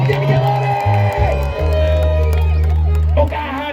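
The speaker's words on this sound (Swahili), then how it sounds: "Wapi makofi ya Bishop Jane King'ori?" A church crowd cheers and applauds for Bishop Jane King'ori, loud whoops and shouts over a deep sustained musical drone, with a voice calling out above the noise.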